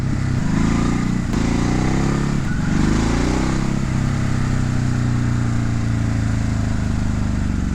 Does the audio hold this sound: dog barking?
no